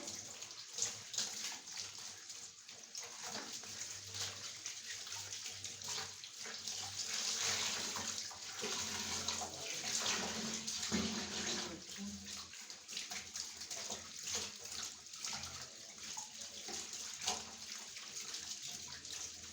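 Water runs steadily from a tap while things are washed in a rural home, a continuous close splashing hiss that swells midway.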